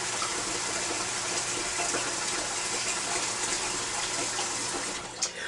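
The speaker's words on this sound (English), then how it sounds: "Let me get this water run." Water runs steadily from a kitchen tap during home cooking, a close, continuous gushing stream with no voices over it, and a small clunk comes near the end.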